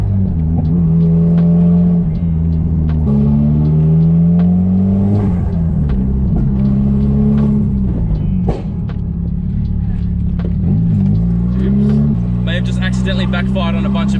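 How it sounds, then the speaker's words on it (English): Nissan S15 engine running close by, with repeated revs rising and falling over a steady rumbling idle, loud throughout. "The sound of the S15 will never get old."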